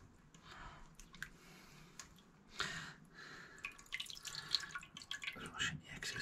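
Tap water runs and drips while excess dry brine is rinsed off a caught rainbow trout before hot smoking, with soft squishy handling and intermittent splashes at close range under light background noise.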